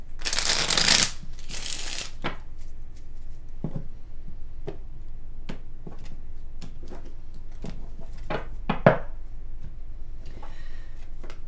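A short burst of tarot card shuffling opens, then scattered taps and clicks as the cards are squared and set down, close and quiet.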